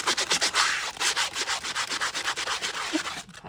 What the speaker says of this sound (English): I'm gonna take my shoe and I'm going to scruff up the bottom of it just a little bit